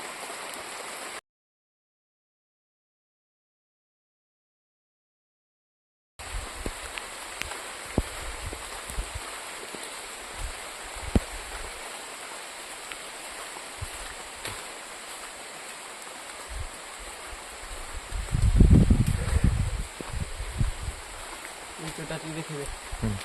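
Heavy rain falls at a temple, a steady hiss of water continuing throughout after a short silent gap, with scattered drips and knocks and a louder rushing surge near the end.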